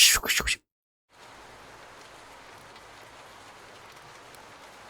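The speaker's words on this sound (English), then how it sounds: "That's the sound of rain." Rain falling steadily on surfaces, a constant even hiss that begins after a brief sound burst and a moment of silence at the start.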